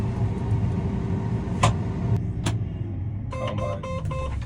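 A combine harvester's engine drones steadily as a low, constant rumble from inside the cab, with a couple of sharp clicks and a short electronic beeping pattern near the end.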